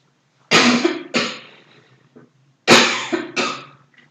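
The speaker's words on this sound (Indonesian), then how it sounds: "kakak juga lagi agak batuk" Two separate bursts of coughing, each a pair of harsh, close coughs, with a short pause between them, from an adult who says she has a slight cough while teaching a maths lesson indoors.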